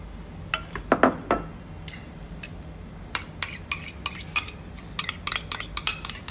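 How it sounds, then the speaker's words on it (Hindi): A spoon mixes South Indian temple-style curd rice in a metal vessel, making scattered bright clinks and taps that come in short bursts with quiet gaps between them. "फ्रेंड्स, अब हम अपना कर्ड राइस ये मिक्स करते हैं।"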